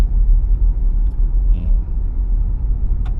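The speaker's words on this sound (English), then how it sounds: "Tom's getting his first go at driving the Ariya." A Nissan Ariya electric car being driven, heard from inside as a steady low road rumble and hum that carries evenly throughout with no one speaking.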